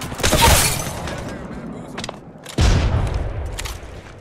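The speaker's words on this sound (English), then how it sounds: "Getting shot at." Gunfire in the battle royale video game Apex Legends, two loud sharp bursts with crackling echo and scattered shots between them, with a voice talking over part of the firing.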